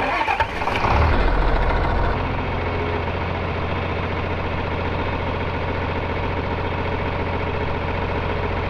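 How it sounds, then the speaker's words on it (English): A tractor engine cranks and catches, then settles into a steady, loud idle that runs close by for several seconds with no talking. "then hop in the tractor and let the loader do the work."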